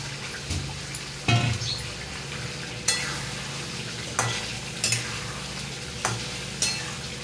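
Previously fried pointed gourd pieces tipped into a pan and stirred, with a steady sizzle underneath and about half a dozen sharp spatula scrapes and knocks spaced across the stretch, no talking.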